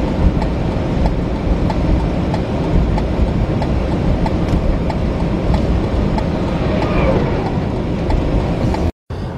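A train rolls past during a winter storm, a steady, loud broadband rumble with rhythmic clatter filling the whole stretch, with wind noise mixed in and a brief dropout near the end.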